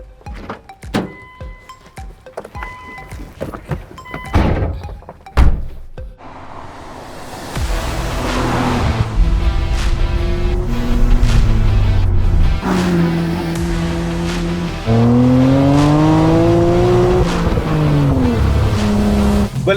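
A Nissan Skyline GT-R R34 door thunks shut among a few handling knocks, then the engine starts and the car drives off, its revving rising and falling through the gears, loud and close.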